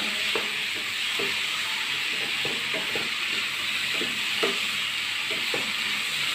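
Chicken sandwich filling with chopped capsicum being stirred and mixed in a pan, a continuous soft sizzle and hiss with repeated light scraping taps of a spoon at an uneven rhythm.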